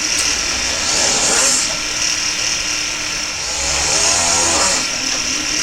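A jeweler's drill opens up the drill holes in a 5-stone ring head being hand-carved from solid metal. It gives a steady, close, high-pitched whir that rises and falls slightly over a faint background.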